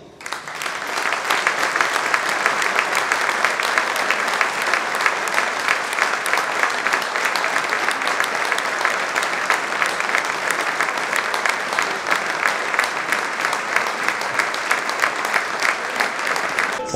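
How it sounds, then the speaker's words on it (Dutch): A crowd at a futsal match between FT Antwerpen and Real Herentals gives a sustained minute of warm applause, dense and steady clapping filling the hall from start to finish with no break. "Mag ik u vragen even 1 minuut een warm applaus te geven"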